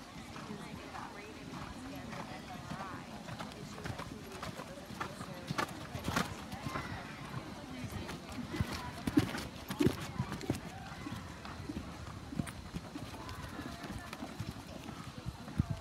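Horses canter around an arena at a horse show in a walk-trot-canter class, a busy rolling patter of hoofbeats under a hall's background noise while an announcer's voice calls out over the ring.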